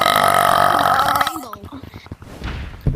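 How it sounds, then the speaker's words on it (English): A person lets out a loud, close burp that drags on for over a second, with casual voices and room noise around it. "Actually, who burped?"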